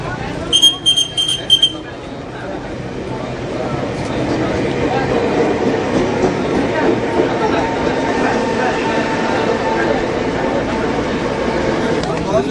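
A commuter train sits at a station platform on the Depok line, its low rumble and hum steady throughout after a brief electronic chime at the start, with a public-address voice speaking over it.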